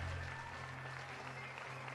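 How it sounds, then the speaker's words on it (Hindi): Townspeople of Hamelin clapping for the pied piper, a faint, brief patter of crowd applause set beneath a steady low hum. "शहर के लोगों ने ये सारा मंजर देखा और खुशी से तालियां बजाकर बांसुरी वाले की तारीफ की।"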